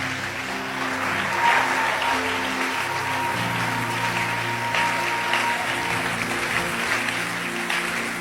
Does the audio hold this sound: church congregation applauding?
yes